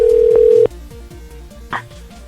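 A telephone dial tone sounds steadily at the start of a prank call, then cuts off, leaving faint rhythmic line clicks and a brief burst of noise.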